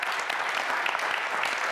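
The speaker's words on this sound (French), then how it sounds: "Charles, on peut applaudir quand même, hein." Audience applause for an award winner at the Blue Ocean Awards 2016 ceremony, a steady dense clapping that continues evenly for a short stretch with no voices over it.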